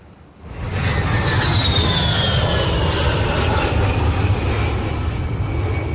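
Airplane landing in a Roblox video game: a loud, steady engine and rumbling roar rises in after a brief quiet start and holds throughout, with a faint whining tone sliding down above it.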